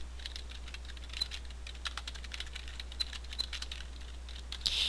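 Typing on a computer keyboard, heard as a rapid, even stream of light key clicks, faint but close, over a constant low electrical hum, with no talking.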